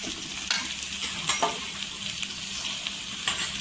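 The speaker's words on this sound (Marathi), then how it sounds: "आणि तेलावर आहे ना छान असं परतून घ्यायचं." Ginger-garlic paste sautéing in oil with softened tomato and onion, a dense continuous hiss with a few light stirring scrapes and taps.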